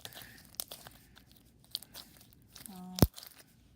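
Crunchy foam bead slime is squeezed close up, giving soft crackling and popping bursts, with one louder squelchy crunch near the end.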